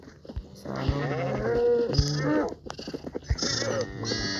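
Sheep in Minecraft bleat repeatedly, several wavering nasal calls one after another with short clicky game sounds between them, close and fairly loud.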